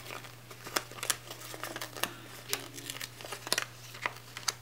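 Planner sticker paper being peeled and ripped makes soft, close crinkling and tearing crackles in short irregular bursts over a steady low hum, with no talking.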